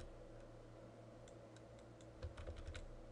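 A computer keyboard is pressed during Photoshop editing, with a handful of soft, quick key clicks near the end over a low, steady hum.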